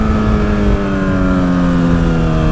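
Suzuki SRAD 750 sport motorcycle engine running at a steady high rev, a loud, close, sustained tone that holds constant for the whole stretch with no voices.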